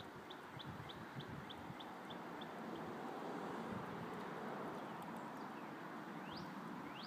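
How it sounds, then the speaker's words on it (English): A bird chirps in a quick series of short high notes, faint against steady outdoor background noise, followed later by a single rising call. "Listen to that bird sing."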